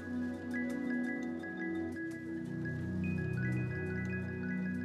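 Water runs and drips steadily while shampoo is rinsed out of low porosity natural hair on wash day, a continuous close wet splashing with a low running hum underneath.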